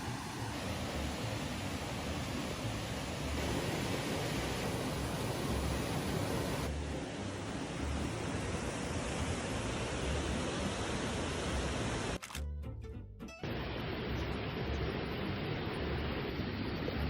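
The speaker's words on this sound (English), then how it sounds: "I hear waterfalls." Waterfall along a Wisconsin hiking trail, a steady broadband roar of falling water that fills the whole clip, briefly dipping and shifting near the end, with no talking.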